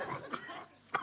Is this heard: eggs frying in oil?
no